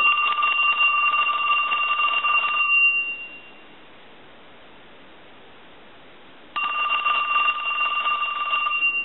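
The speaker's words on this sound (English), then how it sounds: "We'll go ahead and ring the phone." A repaired Trimline telephone rings on an analyzer, a warbling electronic trill in two loud bursts separated by a few seconds of quiet, heard close up with no talking.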